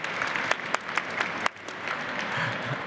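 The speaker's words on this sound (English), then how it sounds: "get a round of applause" Audience gives a round of applause for volunteers at an engagement event, moderately quiet clapping with a few sharper individual claps standing out.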